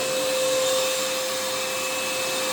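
An Einhell 18-volt cordless wet and dry vacuum runs steadily at close range, a loud, even whoosh of airflow with a thin motor whine and no pauses.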